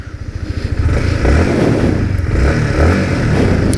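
A Yamaha MT15 V2 motorcycle engine putters and then revs up, rumbling loudly and steadily as the bike rides close by, with a throbbing low growl.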